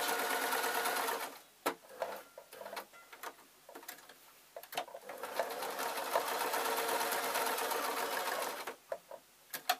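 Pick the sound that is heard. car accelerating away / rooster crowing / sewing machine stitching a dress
sewing machine stitching a dress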